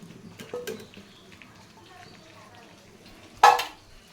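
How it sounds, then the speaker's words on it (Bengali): Fried taro and potatoes drop into spiced oil in a pan with one loud sizzling burst near the end, after faint kitchen clatter and soft talk earlier. "তো এখন এই যে মুখি কচু আর আলু যেটা ভেজে রাখছিলাম ওটা দিয়ে দেবো।"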